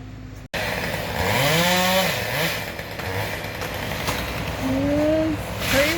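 A chainsaw felling a tree on a cold morning, loud and close, its engine revving up and down in surges, with a brief silence at the start and a final rev near the end.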